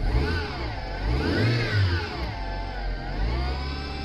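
A 2008-2013 Vauxhall Zafira B 1.8 petrol engine revs up and down, a strong high whine from worn gearbox bearings swelling and falling with each rev, close and loud with no talk.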